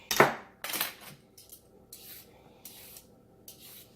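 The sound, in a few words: vegetable peeler peeling produce for green juice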